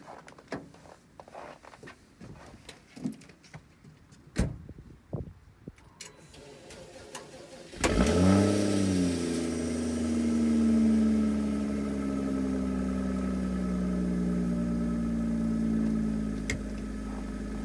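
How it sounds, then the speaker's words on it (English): A BMW X5 35i with a 3-liter engine cold-starts at -17°F: some clicks and handling noises come first, then the engine catches with a loud burst and settles into a steady, high-revving idle. "let's see what the effects of negative 17-degree weather has on starting a vehicle"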